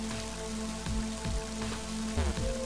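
Steady synthetic rain hiss under a low looping drone in the video game Mother 3, with a few soft thumps scattered through.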